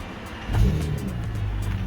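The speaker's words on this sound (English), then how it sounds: "Car starts and runs." A BMW with an N54 engine turns over and catches, its idle swelling into a brief louder rev before settling into a steady, close running hum, with no talking.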